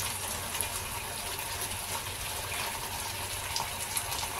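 A little water poured into an emptied oyster sauce container while cooking tofu, a soft steady gushing trickle, quiet and continuous with no voices.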